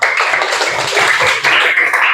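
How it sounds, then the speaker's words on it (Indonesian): Students in a classroom give a group a round of applause, a dense and continuous patter of many hands clapping close by, holding steady for about two seconds. "tepuk tangan buat kelompok 1 ya"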